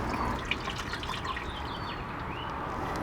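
Diesel fuel drips and trickles faintly from a drained fuel filter on a 6.7L Powerstroke, a quiet, close, irregular patter of liquid with no voices.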